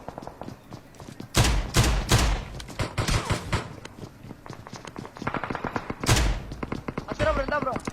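Pistol gunfire in a video game: loud sharp shots ring out in a few bursts, with one near the start and another later, mixed with clatter and thuds while people talk over the action.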